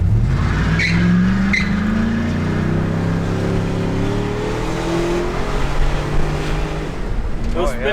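A truck's tires spin and squeal under hard acceleration, with the engine roaring loud and close and its pitch rising and falling throughout.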